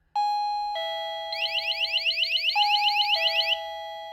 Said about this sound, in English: this sounds like a doorbell, and this sounded like an alarm going off